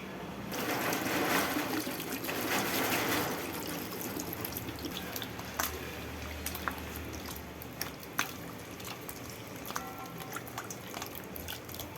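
Mutton trotters are rinsed clean under water: a rushing splash of running water at first, then scattered drips, squelches and clinks of wet bones being handled in a vessel, close up and without talk.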